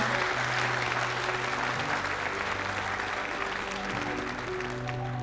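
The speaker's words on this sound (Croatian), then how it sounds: "Ja ne znam smo ikad imali ovako dugačak aplauz od publike" Studio audience applause on a TV talk show rolls on long and unbroken, a steady wash of many hands clapping at constant strength, with a low sustained tone running faintly underneath.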